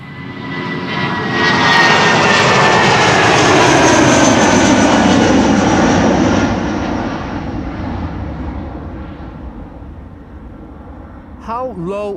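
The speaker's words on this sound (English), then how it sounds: "This is BA flight 433. Going to London Heathrow." A British Airways Airbus A319 jet departing Amsterdam Schiphol for London Heathrow roars past nearby, the engine noise swelling, holding loud, then sweeping down and fading, with a voice breaking in at the end.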